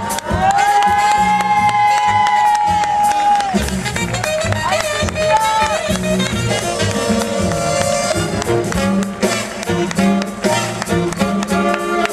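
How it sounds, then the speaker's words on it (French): A crowd cheers the 14 candidates at the Miss Valras-Plage 2011 pageant, with whoops and shouting over loud music and scattered clapping throughout. "j'aimerais vous demander un tonnerre d'applaudissements pour les 14 candidats"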